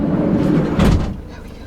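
A camper van door closes in one short, heavy thud midway through, close and loud, over a low background rumble.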